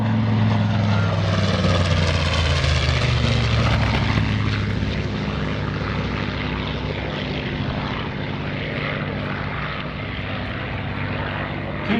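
A TBM warbird with a Wright R2600 Twin Cyclone radial engine roars past at an airshow, a loud propeller drone that shifts in pitch as it flies by, then slowly fades to a steadier, more distant hum.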